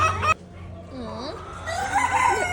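Chickens at a county fair clucking and crowing in short, near, fairly loud bursts, with a busy fairground murmur underneath and a brief louder patch of noise at the start.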